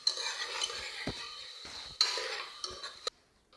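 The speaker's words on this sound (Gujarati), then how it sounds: "ત્યારબાદ સારી રીતે હલાવવાનું" A spoon stirs onion, tomato and ginger-garlic-chili paste in a cooker, with several quiet, uneven scraping strokes and faint sizzling, close by, before falling nearly silent.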